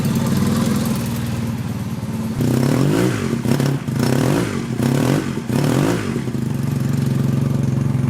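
Small engine warming up while its air/fuel mix is tuned with a Colortune plug, a steady mid-pitched idle broken by several sharp revving bursts in the middle before it settles back to an even run.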